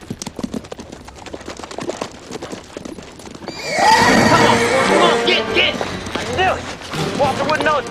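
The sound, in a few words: horses neighing and hooves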